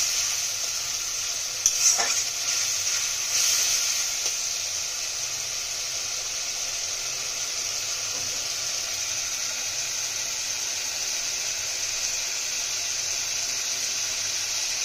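Pabda fish masala bubbles in a pan after water goes in, a steady even hiss and simmer up close, with a couple of brief stirring clinks near the start.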